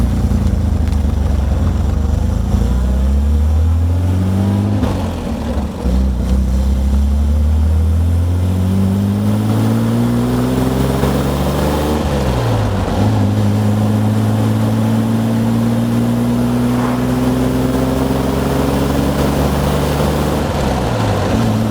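A 1960 Austin Healey 3000 MKI with factory hardtop and overdrive drives along a national speed limit road, its engine loud and close, climbing in pitch through the gears with clear gear-change dips and steady cruising drone.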